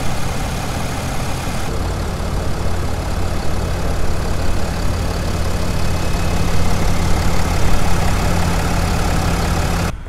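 Turbo diesel engine of a 2019 RAM 3500 pickup truck running, a loud, steady low rumble with a constant broadband roar throughout, close and with no one talking.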